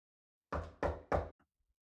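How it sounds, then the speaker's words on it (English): Three firm, evenly spaced knocks land on a door, close and loud against silence, followed by a faint trailing tap. "Standing before room 202, she hesitated for a moment before knocking firmly on the door."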